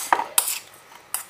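A utensil clinks against a bowl while a cucumber avocado salad is mixed, three sharp separate knocks with brief scraping between, close and alone.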